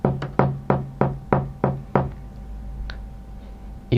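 Knocking on a door, a run of seven sharp evenly spaced raps, close and loud, then a quiet pause and one more knock at the end.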